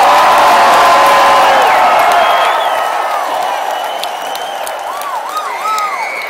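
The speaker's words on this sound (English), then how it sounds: "And the crowd goes nuts." A large crowd at the 2011 Indianapolis 500 cheers and whoops right after the start-your-engines command, a loud dense roar with scattered shouts and whistles that eases slightly but stays steady throughout.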